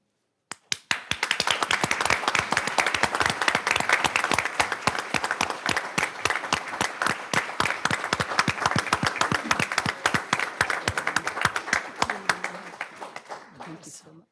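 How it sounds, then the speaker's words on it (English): An audience at a school board meeting applauds cadets who have stepped forward, a dense, steady burst of clapping from many hands that holds for about eleven seconds before thinning out into a few scattered claps. "I would ask you and everyone in the audience to join in applauding these leaders of the future"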